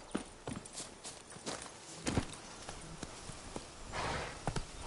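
Horse hooves clip-clop at an uneven trot in the game Witcher 3, faint and irregular thuds with light ambient sound behind them.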